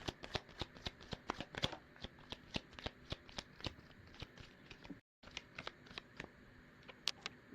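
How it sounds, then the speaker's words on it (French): A deck of tarot cards being shuffled by hand, a close, crisp run of rapid riffling snaps and flutters with a brief pause partway through. "Bon, attendez, je prends les cartes."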